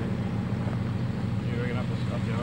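A boat engine idles steadily during a slight engine tune at a scenic spot, a continuous low droning rumble with wind noise on the microphone and faint voices underneath.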